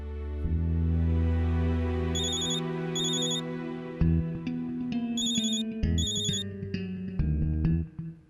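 A telephone rings at night with a work call, playing a loud, close, melodic ringtone of repeating electronic tones and bright chiming accents that continues steadily without any talking.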